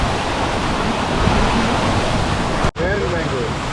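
A powerful waterfall near Rishikesh roars as a dense, continuous rush of falling water, loud and close, with a momentary dropout near the end.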